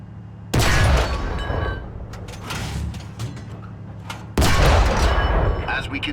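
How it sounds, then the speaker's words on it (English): Two heavy tank cannon shots boom out in War Thunder, each a sudden loud blast with a rumbling tail, several seconds apart, with faint mechanical clatter and a voice between them. "Fire a few shots at the tank."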